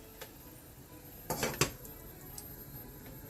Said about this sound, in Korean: 자 이제 뚜껑을 한번 살짝 닫아볼까요?